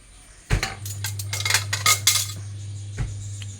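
A metal cooking vessel is picked up and set down in a kitchen, giving a sharp clank followed by a few light clinks and scrapes, then a second knock, with a steady low hum underneath and no talking.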